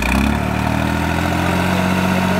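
A tractor's diesel engine runs steadily at 1800 RPM during a village diesel-economy test contest in Haryana, a loud, continuous close-up drone with a strong low hum and no talk.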